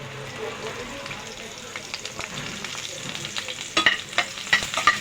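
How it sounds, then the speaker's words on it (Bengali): Onion fries in a pan with a gentle, continuous sizzle, then louder scraping and stirring strokes build in the last couple of seconds. "পেঁয়াজটা বেজে নেই"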